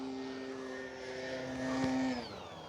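An FMS Kingfisher 1.4 m RC plane flies an inside out loop, its electric motor giving a steady tonal buzz that rises slightly and then drops in pitch as the throttle changes, heard from a distance outdoors.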